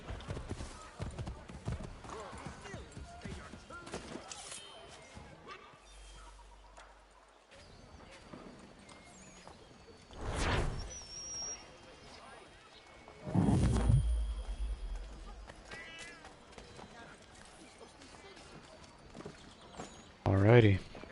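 Horse hooves clip-clop in Assassin's Creed 3 Remastered, a steady galloping patter running under game ambience with louder bursts of action midway and at the end.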